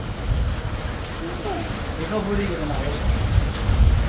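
Steady rain hisses throughout, close and constant, while voices murmur faintly underneath.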